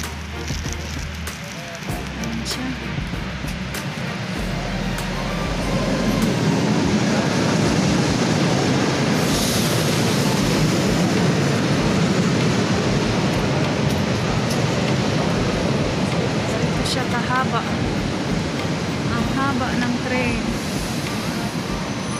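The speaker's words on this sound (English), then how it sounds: "parating na yung train na sasakyan ko." A train near Moscow rumbles in and grows louder over several seconds, a steady broad roar with faint squeals near the end, light rain hissing in the background.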